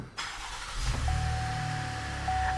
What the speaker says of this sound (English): And now we should be able to start the vehicle as normal.